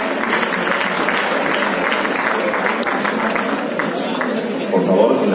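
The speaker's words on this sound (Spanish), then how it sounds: "Un aplauso para Antonio, el consejero delegado de la Liga Endesa." Loud, dense audience applause at the Liga Endesa 2018-19 presentation event for the league's CEO, continuous clapping with crowd murmur throughout and a slight swell near the end.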